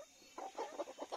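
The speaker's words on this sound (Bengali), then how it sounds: "এটা বড় একটা পাহাড়ি মোরগ" A large hill-breed rooster and chickens cluck nearby in a quick series of five or six soft, rhythmic clucks rising out of quiet.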